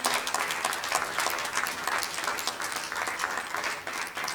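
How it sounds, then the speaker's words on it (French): Audience applause after a film screening at a ciné-club, a fairly quiet but dense spread of hand clapping that pulses slightly in strength and continues steadily, with almost no talk over it. "Applaudissez une fois de plus pour ce film."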